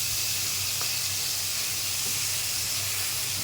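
Onion, garlic and ginger dropped into a pan of frying capsicum and potatoes, producing a loud, steady hissing sizzle like steam that carries evenly throughout with no voices.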